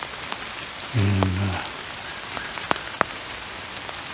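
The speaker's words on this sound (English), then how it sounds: "because it's raining" Steady rain patters down across a West Virginia forest, a soft continuous wash with a brief low hum near the start and a couple of sharp drip-like taps later, no talking.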